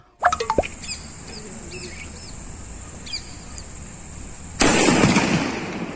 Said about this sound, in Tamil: இந்த வெடி வந்து பாத்தீங்கன்னா அப்படியே 7 தள்ளி வெடிக்குது.